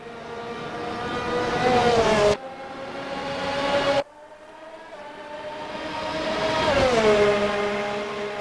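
An RSS Formula Hybrid X race car in Assetto Corsa whines past in loud, high-revving bursts, the engine note rising and falling across abrupt cuts between passes.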